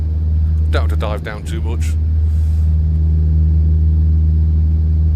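Steady drone of a Cessna 152 Aerobat's piston engine in a flight simulator, a constant low hum running the whole time while someone talks briefly over it.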